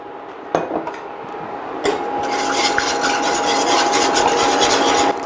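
A whisk clatters briskly against a bowl as lemon tart ingredients are mixed, starting with a couple of sharp knocks and building into a continuous, close scraping rattle.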